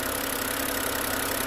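A BMW N52 engine in an E82 with about 350,000 kilometres on it idles steadily, giving an even, close mechanical hum with no talking.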